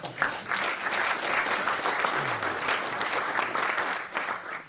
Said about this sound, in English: That's worth a round of applause, I think.